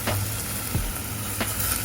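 Dried chilies stir-frying in a hot pan with wilted aromatics for Penang nasi kandar, a steady close sizzle broken by a few scraping stirs.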